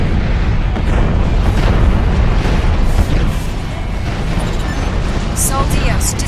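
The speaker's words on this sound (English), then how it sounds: "Sol Dios destroyed. Explosion imminent." An explosion in the video game Armored Core 4: a loud, continuous, rumbling roar with crackling bursts that goes on for several seconds.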